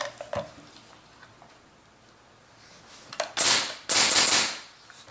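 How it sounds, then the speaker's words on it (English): A Polarstar airsoft gun fires two loud, sharp, hissing bursts close together near the end, after a single faint click and otherwise quiet room tone. "I'm going to shoot my Polarstar, see the noise comparison."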